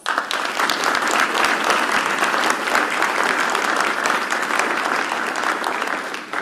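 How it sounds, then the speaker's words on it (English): A room full of people applauds at a Virginia state education press event, loud sustained clapping from a crowd that holds steady for several seconds before tapering slightly at the end. "Let's give them an applause"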